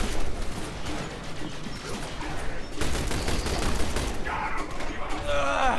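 A turret in The Bureau: XCOM Declassified fires sustained bursts of gunfire. The clattering shots and mechanical rattles run loud and continuous through the scene, with brief electronic tones near the end.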